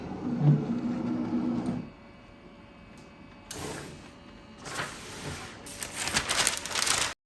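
An HTVRont auto heat press takes a tray pushed in until it clicks, then whirs and clunks through its pressing cycle, with mechanical bursts and rattles building toward the end, close and alone.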